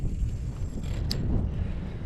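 Gusty wind rumbles across the microphone in a low, continuous buffeting while fishing outdoors, with a brief faint click partway through.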